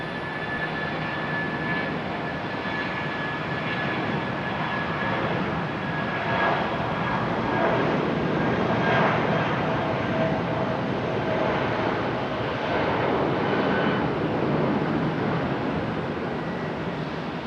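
A fixed-wing airplane landing at Charlotte Douglas International Airport, heard as a steady, loud broadband engine roar that swells gently mid-clip and holds for the full stretch, with no voices.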